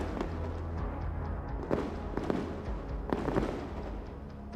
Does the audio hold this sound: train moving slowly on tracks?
no